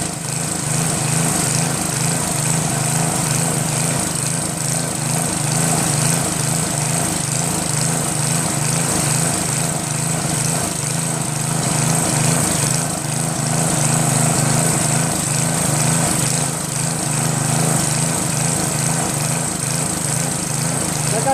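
An old Northern Hydraulics pressure washer with a 3.5 HP Briggs engine runs steadily while cleaning algae off a surface, its small engine droning loud and constant throughout with no pauses.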